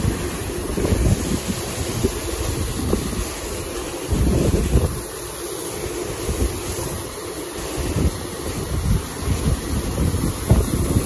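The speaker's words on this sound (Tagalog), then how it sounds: "Lakas ng hangin talaga." Strong wind roars during a storm at sea aboard a small fishing boat, battering the microphone in constant heavy gusts with the wash of waves beneath, and no voices.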